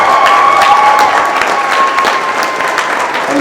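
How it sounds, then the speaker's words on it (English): A crowd applauds loudly and steadily, a dense wash of clapping hands that stays even throughout. "Let's give another round of applause for Aaron Archer."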